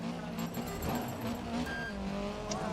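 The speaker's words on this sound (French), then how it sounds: "On a un son moteur aussi qui est totalement fidèle à ce que vous pouvez" Rally car engine in the Dirt 3 video game, a steady strained drone with tire scrabble, loud and continuous for under three seconds with no talk.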